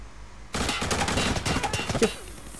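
Dense video game gunfire erupts suddenly after a quiet start, a loud continuous volley of rapid shots that crackles on for about two seconds before easing off.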